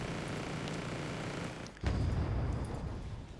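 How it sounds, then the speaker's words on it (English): HE artillery rounds fired in Wargame Red Dragon: a steady rumbling battle bed, then one sudden heavy boom that jumps louder and leaves a dense, lingering roar, with no talking. "fire off a couple of those 5 HE rounds on enemy infantry"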